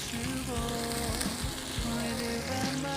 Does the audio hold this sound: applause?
no